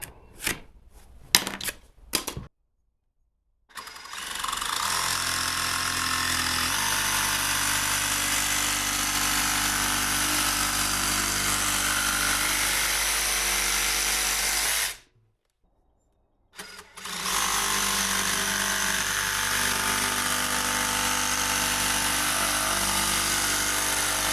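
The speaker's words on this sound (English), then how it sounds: "Now I'm going to make two cuts in the micarta." A power tool cuts micarta into knife scale pieces in two long, loud, steady whining passes, separated by a short silence. A few short bursts start the sequence.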